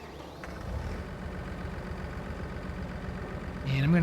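Tractor engine idling in Farming Simulator 25, a steady low rumbling throb that continues evenly, with a louder swell near the end.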